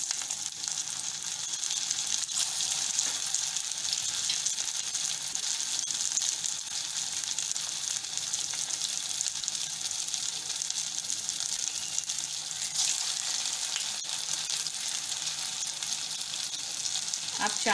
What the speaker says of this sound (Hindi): इसको मैंने शैलो फ्राई किया, मतलब ज़्यादा ऑयल नहीं है।